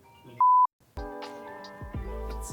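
Single short electronic phone beep, a clean steady tone lasting about a quarter second, followed by background chatter and movement in a room.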